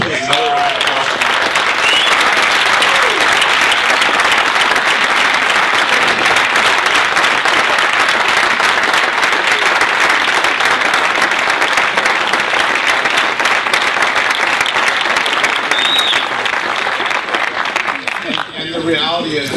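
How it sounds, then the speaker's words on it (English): Loud, sustained applause from a large crowd, dense clapping that continues for nearly twenty seconds before beginning to thin out. "So please, another round of applause."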